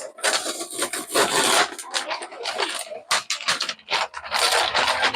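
A hand smooths a sheet of adhesive contact paper flat, giving close, loud bursts of scraping and rubbing with short pauses between strokes.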